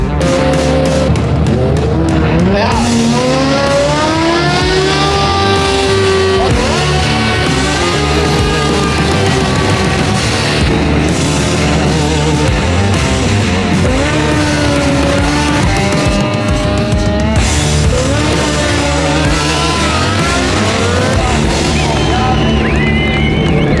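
Custom handmade mopeds, some running nitrous, racing at the Glemseck 101 event: high-pitched two-stroke engines whine and rise through repeated revving runs, loud and close, with several machines overlapping and passing in succession.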